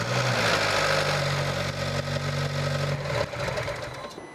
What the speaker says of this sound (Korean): 시동 걸어서 오일불 나가면 바로 꺼주면 돼